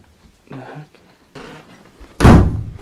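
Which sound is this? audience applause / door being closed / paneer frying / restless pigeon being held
door being closed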